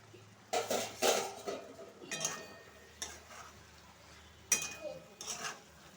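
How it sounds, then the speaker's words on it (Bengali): A metal lid lifted off a cooking pot of simmering chal kumro stalk curry, a few clattering clanks and scrapes at close range with quiet pauses between them. "এবার ঢাকনাটা খুলে দেবো আবার।"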